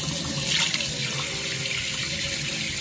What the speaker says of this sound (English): I'm rinsing with pretty cold water, just so y'all know.